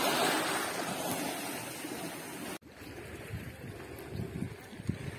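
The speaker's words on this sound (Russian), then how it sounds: "Вот они, волны вот эти." Sea waves wash over a stony, pebbly beach, a steady broad rush with surges swelling and receding, fairly close; a brief dropout midway, then softer lapping of water over stones.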